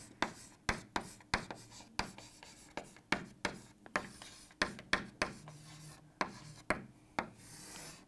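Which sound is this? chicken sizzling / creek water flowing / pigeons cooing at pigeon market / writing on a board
writing on a board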